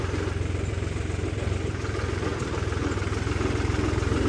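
A New Holland 3630 tractor on 18.4-30 tyres idles close by, its engine giving a steady, unbroken low rumble with a faint mechanical clatter and no voices.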